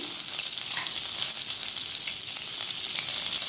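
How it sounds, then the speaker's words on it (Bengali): Pointed gourd pieces fry in hot oil with salt and turmeric, giving a continuous, close, bright sizzle with faint stirring beneath it and no talking. "আর হলুদ দিয়ে পটলগুলোকেও একদম লাল লাল করে ভেজে নিচ্ছি।"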